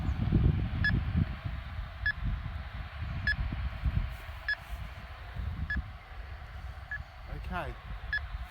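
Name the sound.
falconry telemetry receiver beeps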